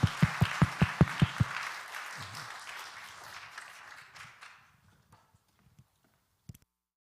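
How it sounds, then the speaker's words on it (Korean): Applause from a church congregation at a Friday late-night prayer meeting, a dense wash of clapping that swells briefly then fades out over several seconds, following a few sharp rhythmic claps at the start. "박수"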